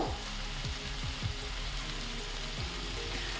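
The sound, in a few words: stirring chicken vegetable soup in a pan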